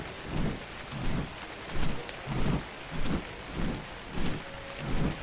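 Rain and rolling thunder in the survival video game Ark: Survival Evolved, a steady wash of rainfall with low rumbles swelling and fading about every half second.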